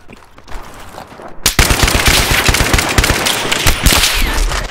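Rapid automatic gunfire from the video game Battlefield 3 on an aircraft carrier map, with a loud sustained burst of close shots that starts abruptly after a quieter opening and continues to the end.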